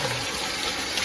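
Cold bathing water splashes and gushes in a steady, close, continuous rush, with no voices over it.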